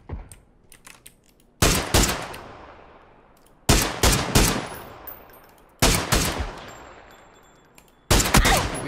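Gunfire in the shooter game PUBG comes as four sharp, loud bursts of rapid shots, each trailing off in a ringing echo, with quiet gaps between them.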